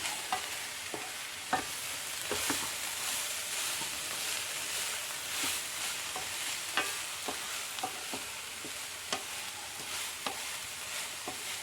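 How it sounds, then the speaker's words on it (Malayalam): Cabbage thoran being stirred as it fries in a pan, a steady close sizzle and hiss with scattered scraping clicks of the spoon against the pan, no talk. "നമ്മുടെ തോര ഒന്ന് ഇളക്കി ഒന്നും കൂടി മൂടി വയ്ക്കുക"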